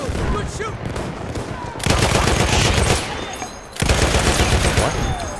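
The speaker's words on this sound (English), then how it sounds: "You're getting shot at!" Battlefield 1 gunfire crackles in dense, sustained bursts, loud and close, with a couple of brief lulls between rattling volleys. Faint voices sit beneath the shooting.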